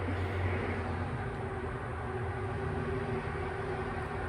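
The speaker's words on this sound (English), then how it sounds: "there's birds chirping, there's beautiful surroundings, but then like loud highway traffic" Loud highway traffic roars nearby as a constant, dense low rumble with no breaks or distinct passing vehicles.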